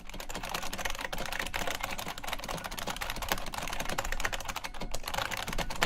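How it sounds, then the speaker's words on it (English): Rapid continuous typing on an IBM Model M keyboard with buckling spring switches, each keystroke a sharp clicky snap in an uneven stream, close up with no speech. "Using buckling spring switches, the IBM Model M is where a lot of the excitement around mechanical keyboards started"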